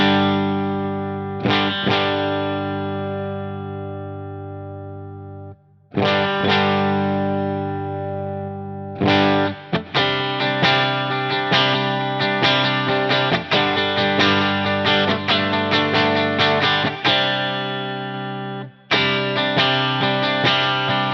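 Clean electric guitar played through a Line 6 HX Stomp with reverb, loud strummed chords and picked notes in phrases separated by short pauses, each ringing out with a shimmering reverb tail, no voices.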